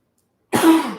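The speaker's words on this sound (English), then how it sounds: "A dry cough from this air conditioner" One short dry cough after a second of silence, close and clear, with a rough throat-clearing edge and no talking.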